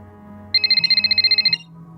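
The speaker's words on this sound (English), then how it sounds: "they were interrupted by Elise's cell phone" A cell phone ringtone in an audio drama trills in one rapid, high-pitched electronic burst lasting about a second over a soft background music bed.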